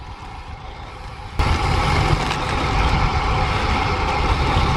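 Road traffic with trucks rumbles steadily nearby, with a sudden jump in loudness as a heavy vehicle engine swells close by and continues droning; no voices.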